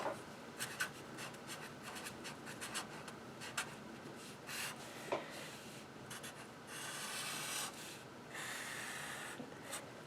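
A pen sketches a parabola graph on paper in close, scratchy strokes: short rubbing bursts with small pauses, then a longer continuous scribble and another sustained stretch, with no talk.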